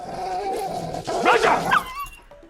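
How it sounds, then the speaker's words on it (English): A dog at home plays and gives a short burst of yappy barks and whimpers in the middle, over a low hum of background music. "Elsewhere, Alexei relaxed at home, playing with his loyal dog, Raj."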